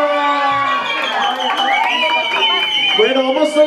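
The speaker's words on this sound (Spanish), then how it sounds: "¡Un aplauso!" Guests at Sofía's quinceañera applaud and cheer after a mariachi serenade, clapping and shouts rising under an announcer's voice, close and lively in a crowded room.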